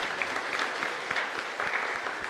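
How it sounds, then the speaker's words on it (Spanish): A congregation claps at a Pentecost Sunday Mass in a chapel, a steady roomful of applause with a few sharper claps standing out and no voices. "Un fuerte aplauso entonces para el Señor."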